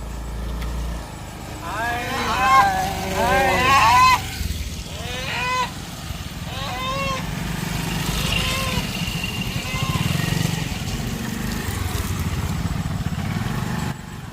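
Motorbikes ride along a muddy rural track toward a hill, engines droning under a few rising honks early on, with people talking over the ride.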